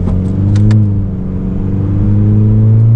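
A 2019 Honda Civic Sport with the K20C2 engine and KTuner tune pulls hard in second gear, a loud steady engine drone rising in pitch throughout, with no talking.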